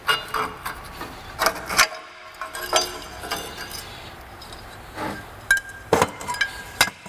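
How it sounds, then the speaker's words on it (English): Parking brake shoes come off the rear of a 2004 Ford Explorer during a wheel bearing job, scattered metallic clinks, taps and scrapes of springs and parts, close and irregular, with no speech. "Before I position the tool, I need to remove the parking brake shoes."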